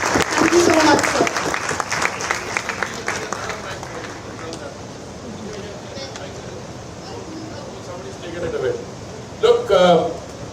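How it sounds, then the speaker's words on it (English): Applause from a seated audience at a women's event rises loudly at first and then thins into scattered clapping under crowd murmur and talking, with another short burst near the end. "if we can have a huge round of applause for all of us and all the women who are trying to pay it"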